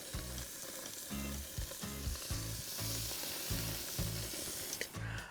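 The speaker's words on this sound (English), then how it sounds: "It goes on with the sizzle." A loud, steady sizzle of steak frying in a piping-hot pre-seasoned pan, cooked outdoors bush-style, with rhythmic scraping or shifting sounds underneath.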